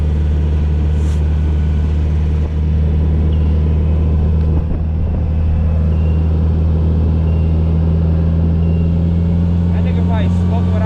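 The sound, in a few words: Polaris Slingshot SL being driven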